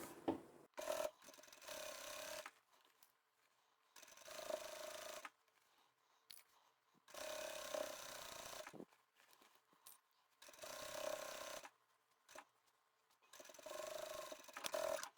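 A sewing machine runs top stitching along the upper edge of a fabric drawstring bag, in four separate bursts of steady mechanical whirring with quiet pauses between them, fairly faint and with no voices.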